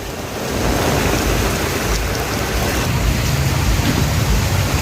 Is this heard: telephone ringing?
no